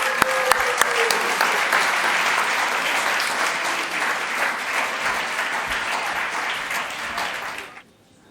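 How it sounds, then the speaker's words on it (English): Sustained audience applause at the opening session of the 25th biennial IIBA international conference, a dense steady wash of clapping from a large room that holds for about eight seconds before cutting off. "Please applause to Diana Guest."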